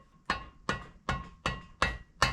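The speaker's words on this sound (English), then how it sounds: "put the 2x4 in here and then just hammer on it" Six evenly spaced hammer blows strike metal with a ringing clang, hammering out a VW Beetle stub axle, close and steady in rhythm, with no talking.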